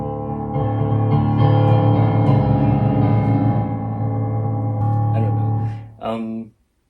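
Voice vocally imitating the rhythmic percussion beat from Hans Zimmer's Dune score, a sustained droning, pulsing vocal pattern that cuts off abruptly.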